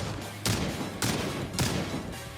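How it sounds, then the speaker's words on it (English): Blade's shotgun in Marvel Rivals fires three sharp, booming blasts about half a second apart, each with a short ringing tail over a low background hum. "You know that it breaks into pellets by the sound of the gunshot ringing out."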